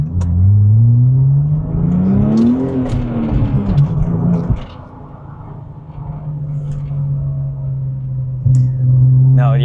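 A Porsche 996 Turbo engine revving hard, its loud droning pitch climbing then dropping as a gear change cuts in, falling to a lower roar before building again, heard close from inside the car.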